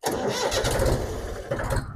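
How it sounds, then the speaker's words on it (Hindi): A 2013 Mahindra 265 DI tractor engine cranks and catches on a short turn of the starter, then runs with a loud, close, chugging diesel rattle. "हल्का सा सेल्फ दिया और ट्रैक्टर स्टार्ट हो गया"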